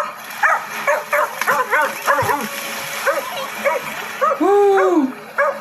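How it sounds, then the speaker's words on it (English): A small dog gives a run of yips and short barks mixed with whining, close and fairly loud, while a person exclaims and laughs over it. "I love when dogs do that."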